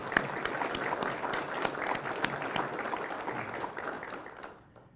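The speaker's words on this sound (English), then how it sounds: "And please give them a round of applause for their hard work as well." An audience at a Northern Nevada law enforcement academy graduation claps in a steady round of applause, moderately distant and evenly sustained before tapering off at the end.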